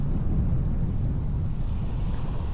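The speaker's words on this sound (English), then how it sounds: "The wind did kind of die down a little bit." Steady wind blows over open water at San Luis Reservoir on an evening of striped bass fishing, a continuous low rushing roar with light surf-like wash and microphone buffeting, no voices.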